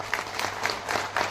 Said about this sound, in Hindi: एक बार जोरदार ताली अपने लिए बजाइए।